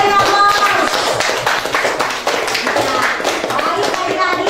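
Students in a junior high school classroom clap together after the teacher's prompt, a dense, steady patter of hands that stays loud for several seconds, with children's voices mixed in.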